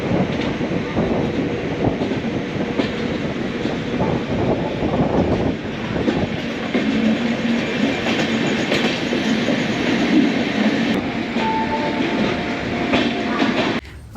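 The Yesvantpur–Vasco Express passenger train runs steadily on its rails, producing a continuous loud rumble with faint clickety-clack and wind buffeting throughout. It is heard from on board, with no talk.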